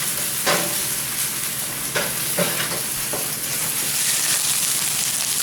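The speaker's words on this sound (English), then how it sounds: "While the onion's cooking, I'll just give it a stir around." Onions frying in a pan for beef goulash, a steady close sizzle with several distinct scraping stirs of a utensil against the pan, no voices.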